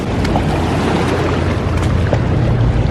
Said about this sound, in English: And there are the waves.